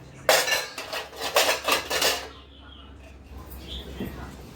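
Dishes and metal utensils clatter and clink loudly for about two seconds, then the noise drops to a quiet background with a few faint knocks.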